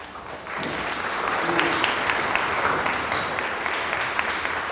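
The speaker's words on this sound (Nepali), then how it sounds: "तपाईँहरू सबैले ताली बजाएर पादालाई स्वागत गर्नुहोस्" Congregation applauding to welcome a priest at a church novena service, sustained dense clapping from many hands filling the space steadily after a brief quiet start.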